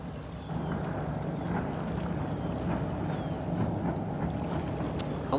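A steady low engine rumble of a ship and its small pilot boat carries over water at the Port of Tampa, with wind buffeting the microphone, constant and moderately distant.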